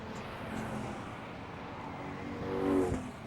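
Street stock race cars run a night main event at Mesa Marin Raceway in 1998, their engines a steady distant roar that swells briefly as cars pass closer.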